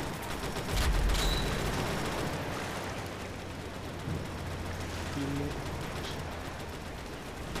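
Automatic gunfire in the World War II shooter World War Heroes, a steady rattle of shots that runs beneath someone talking casually throughout.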